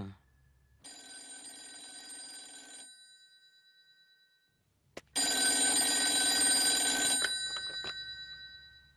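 A telephone rings in a Tamil horror film scene: a long electronic ring, a pause, then a louder, fuller ring that fades away, with faint background sound and no talking.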